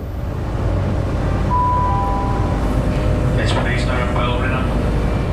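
A passenger train runs on the line from Belfast to Derry, giving a steady low rumble and drone heard from on board, with faint squeals and rattles partway through.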